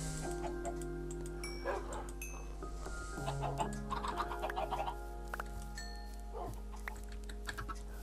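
Farmyard hens clucking in short scattered bursts over a steady low hum, with a dog barking and other fowl calling nearby.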